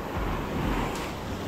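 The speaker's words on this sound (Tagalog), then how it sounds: "Medyo malaki yung alon. Dito naman yung alon, oh." Large sea waves wash onto a concrete shoreline in a steady, broad roar, with wind buffeting the microphone and no voices over it.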